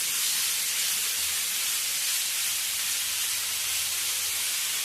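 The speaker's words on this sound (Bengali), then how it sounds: "এবারে আমার গ্রেট করা গাজরগুলো ওই ঘিয়ের মধ্যে দিয়ে দেব" Grated carrots dropped into hot ghee spiced with cardamom, cloves and cinnamon give a steady, loud hiss of sizzling that runs evenly for several seconds with no talk over it.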